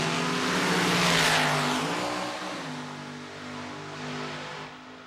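A drag racing car launches and accelerates hard down the strip at a Can-Am Nationals meet, a loud, rising engine roar that peaks early, then fades and drops in pitch as the car pulls away.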